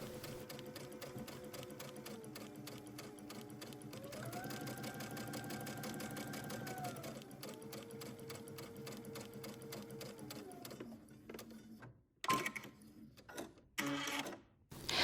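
A sewing machine runs a long basting stitch along the bottom edge of a dress bodice lining, a steady rapid whirring with shifting motor pitch that stops near the end, followed by a few brief handling knocks.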